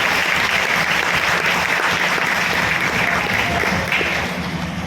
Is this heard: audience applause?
yes